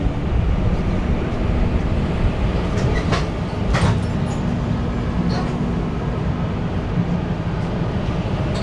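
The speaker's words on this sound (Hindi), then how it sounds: "साइरांग स्टेशन।" A train at Sairang railway station gives a loud, continuous rumble with a steady hum and a few brief metallic clicks, heard close by without clear talk.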